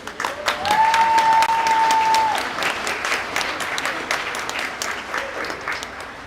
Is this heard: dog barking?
no